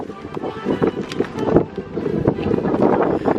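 Strong wind blowing outdoors at a 17 August Indonesian Independence Day game in Sweden, steady loud buffeting rumble across the microphone with brief gusty swells and no clear speech.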